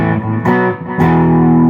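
Distorted electric guitar chords through a Vox AC30 amp model ring out loud and close, struck in a few strums with sustained, crunchy amp tone and no talking.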